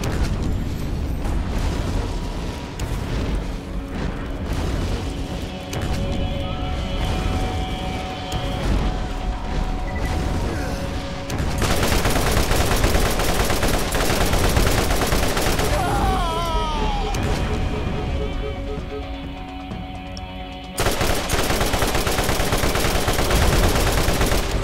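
Explosions and gunfire in the video game Borderlands during a fight against a large creature, a dense, continuous barrage of rapid shots and booming blasts that stays loud throughout, with brief drops and surges in intensity.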